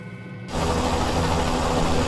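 Bell 206 helicopter in Microsoft Flight Simulator 2020, a dense mechanical rotor and turbine whir that cuts in abruptly and runs loud and steady.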